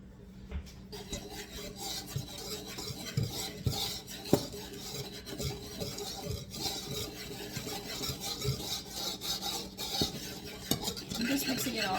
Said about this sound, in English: so I'll whisk this together